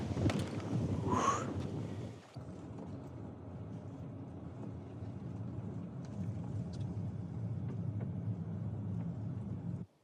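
Strong wind buffets the microphone at a shore while fishing, a loud continuous low rumble with a brief gust burst early on, then a steady roar that cuts off abruptly at the end.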